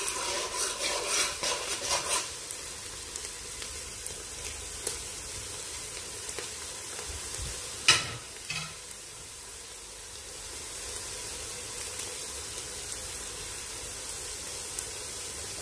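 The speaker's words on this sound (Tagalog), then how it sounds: "Hintayin po natin siya na mag-golden brown lahat yung sangkap." Arroz caldo ingredients fry in a pan until golden brown, with a steady close sizzle, a few scraping stirs near the start and a louder clatter around the middle.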